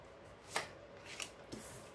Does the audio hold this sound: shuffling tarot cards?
yes